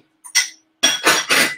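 Glass Pyrex food containers clink and knock together as they are handled, in a few short, close, bright clinks separated by silence.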